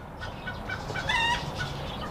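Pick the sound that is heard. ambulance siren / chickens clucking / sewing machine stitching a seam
chickens clucking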